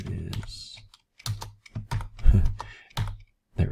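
Close, fairly quiet clatter of a computer keyboard while coding game scripts, irregular bursts of key clicks with short pauses between them.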